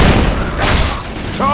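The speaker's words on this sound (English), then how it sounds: "Grenade!" A grenade goes off in Left 4 Dead 2: a loud, booming blast at the start, rolling on into a rumbling wash of noise before a brief voice cuts in at the end.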